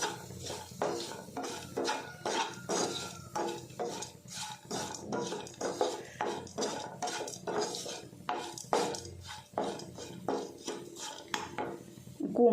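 A spoon scrapes and clanks repeatedly against a pan while banana blossom is sautéed with chilli powder and salt, giving steady close metallic stirring strokes with no talk.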